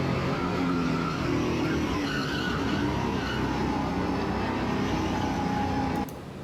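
A go-kart at Xtreme Zone is held at full throttle through a corner, its engine droning loud and steady with a faint tire squeal before easing off at the end.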